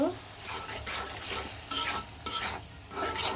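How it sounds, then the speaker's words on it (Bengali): Shrimp and onions are stir-fried with ground coriander and spices, a low sizzle under repeated scraping spatula strokes against the pan, close and rhythmic, without speech. "মাছ আর পেঁয়াজগুলো কিন্তু মশলার সাথে একদম সুন্দরভাবে পারফেক্টভাবে কষিয়ে নিব"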